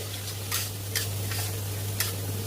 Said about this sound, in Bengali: এই গ্যাস কমিয়ে একটু ভাজা ভাজা করতে হবে